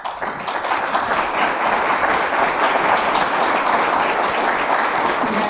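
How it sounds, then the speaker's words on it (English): Audience applause at a meeting recognizing districts in a payment solutions card program, a steady, dense clapping from a sizable crowd that holds evenly for the full stretch with no talk over it. "Let's give them a round of applause."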